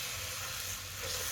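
Dosa batter of semolina and urad dal sizzles on an oiled pan with a constant close hiss, brief and unbroken, with no voices.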